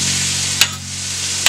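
Steady, close sizzle of bell peppers and onions frying on a hot steel flat top grill, with two brief sharp scraping clicks of a utensil stirring.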